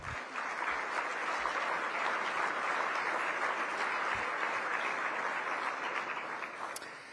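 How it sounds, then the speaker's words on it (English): Conference audience applauding at a US Conference of Mayors plenary, a dense, sustained wash of clapping from a large crowd that holds steady for several seconds before slowly easing. "please give them all a big round of applause."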